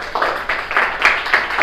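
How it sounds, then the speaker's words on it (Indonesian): A classroom of students gives a short burst of applause, with uneven clapping swelling in waves for under two seconds, fairly close and loud. "Ya, tepuk tangan dulu."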